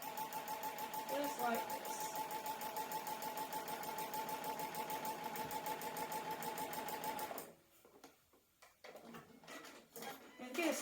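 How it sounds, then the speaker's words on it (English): A sewing machine stitches quilt pieces a quarter inch from a marked line, running in a fast, even close-up whir for about seven seconds before stopping, followed by handling clatter while someone speaks briefly. "And I'm going to sew 1/4 inch down each side of this blue line,"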